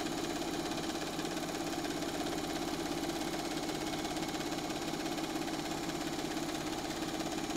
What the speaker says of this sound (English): Now I get to actually do the quilting.